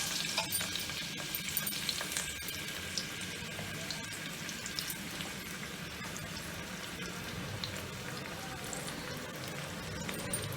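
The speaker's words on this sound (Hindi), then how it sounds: "2 से 3 चम्मच तेल को गर्म किया है, इसमें लहसुन अदरक का पेस्ट डालूंगी और इसको भूनना है हमने।" Garlic-ginger paste frying in two to three spoonfuls of hot oil on a low-flame stove, a steady close sizzle with occasional stirring scrapes running throughout without pause.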